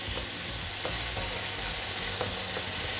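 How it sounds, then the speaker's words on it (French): Food frying in a pan during home cooking gives a steady, even sizzle with faint crackles and occasional stirring, heard close up with no talking. "ça risque de faire un peu de bruit là de la cuisson"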